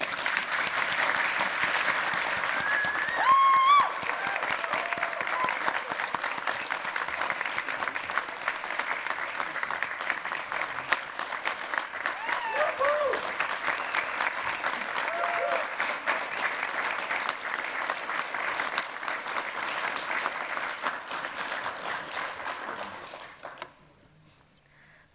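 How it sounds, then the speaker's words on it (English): Sustained audience applause fills a Syracuse University Air Force ROTC pinning and first salute ceremony, a steady dense clatter of many hands lasting over twenty seconds before fading out at the end. "Please join me in one final round of applause for our new lieutenants."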